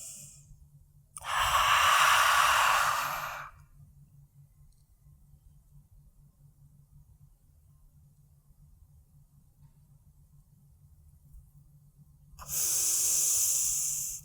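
A person breathes deeply during a yoga belly-lock exercise: two long, loud breaths, about two seconds each, separated by a quiet pause of nearly nine seconds.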